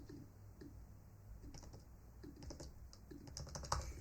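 Steady, quiet clicking of keys on a computer keyboard as someone types, uneven taps running throughout with a slightly louder burst near the end.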